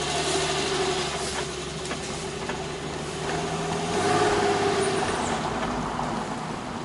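Old car engine idling, a steady mid-low mechanical hum with a continuous rough drone, close and unchanging for several seconds, a slight swell near the end, no voices.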